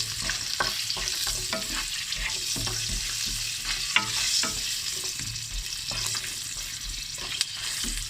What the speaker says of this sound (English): Then comes the ginger, and the cinnamon stick, cardamom powder, and the cloves. Just toss them a little bit.